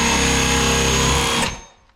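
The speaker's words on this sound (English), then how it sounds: "now we'll put the drill on top of all 3 screws. Make sure it's on top of all 3 and start" A power drill fitted with a hole saw bites into a door to start a lock hole, a loud steady whirring grind lasting over a second, then cutting off sharply and winding down to quiet.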